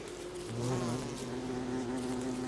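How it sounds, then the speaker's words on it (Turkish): Bees in the game Don't Starve Together hum in a steady, close, droning buzz that holds without pause for a couple of seconds, with no speech. "bol da arı var"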